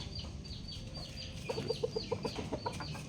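A hen clucks in a backyard poultry pen among other chickens, a rapid run of short, fairly close clucks rising over a low rustling background. No one talks.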